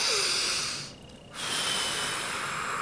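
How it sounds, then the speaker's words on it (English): A deep breath sniffed in through the nose, heard as a steady airy hiss that dips briefly midway, close and alone with no talk. "take a really deep breath in through your nose, and then blow it out"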